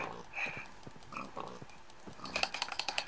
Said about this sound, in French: Des petits cochons.